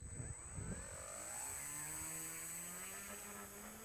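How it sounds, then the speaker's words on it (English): An RC model airplane takes off, its small engine whining steadily and rising in pitch as it accelerates and climbs, heard alone at moderate distance. "Okay, now I am ready for the takeoff."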